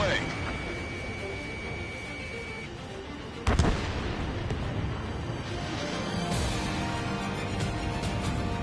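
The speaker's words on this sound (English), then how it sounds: "Missile away." A missile launches in the combat game Ace Combat 7 with a single sharp burst at about three and a half seconds, followed by a rushing trail of noise over continuous engine and battle rumble, with voices talking in the mix.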